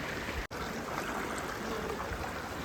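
Floodwater after heavy rain rushes in a continuous, even roar of flowing water, steady and fairly close, with a brief dropout near the start.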